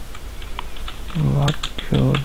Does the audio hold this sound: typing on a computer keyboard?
yes